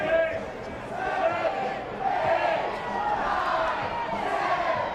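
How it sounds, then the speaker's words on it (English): Stadium crowd at a Louisville men's college soccer match rising in a sustained rhythmic roar, counting down a goalkeeper's goal kick, loud and continuous with voices swelling in waves. "Crowd here at Louisville counting down Blake Kelly on his goal kicks"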